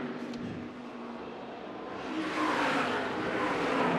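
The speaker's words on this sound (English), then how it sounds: "You can hear the tires squeal on those cars" ARCA Menards Series race cars roar past at Watkins Glen with a rising engine note and a high, sustained squeal of tires growing louder toward the end.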